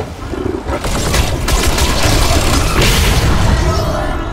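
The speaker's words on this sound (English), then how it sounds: "Sideways minigun." Minigun fire in the video game Fortnite, a dense, loud, continuous barrage of rapid shots and booms lasting throughout, with a brief swell of blasts near the middle.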